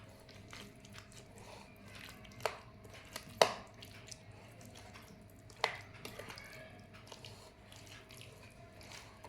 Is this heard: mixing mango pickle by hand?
yes